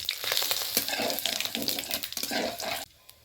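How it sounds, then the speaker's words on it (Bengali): Cumin seeds, a dried red chili and a bay leaf hit hot oil in a pan, producing a close, crackling sizzle with irregular pops and spits that stops abruptly near the end. "ফোড়নে একটু জিরা নিয়েছি একটা শুকনা লঙ্কা আর একটা তেজপাতা দিয়ে দেবো"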